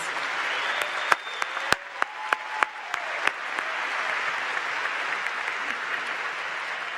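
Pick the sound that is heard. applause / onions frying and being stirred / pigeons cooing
applause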